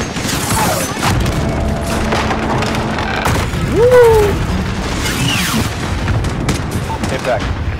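Missile strike explosions in the Call of Duty: Modern Warfare 2019 campaign, heavy booms and rumbling blasts with scattered gunfire and whistling, loud and continuous, with voices in the mix.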